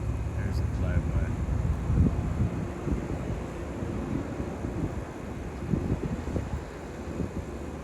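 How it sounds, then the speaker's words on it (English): Wind buffets a microphone outdoors while the sky is being watched, a steady low rumble of gusts with a few brief louder thumps, continuous through the whole stretch. "Slight wind"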